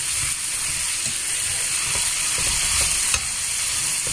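Sliced bitter gourd (ampalaya) is stirred in a hot frying pan, a steady sizzle and hiss with soft, repeated scraping and clatter of the spatula, close and continuous with no talking.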